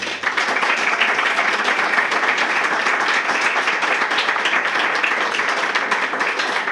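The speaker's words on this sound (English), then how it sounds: "Let's give them a round of applause." A crowd applauds with sustained, dense clapping that stays steady and loud for several seconds, with no talking.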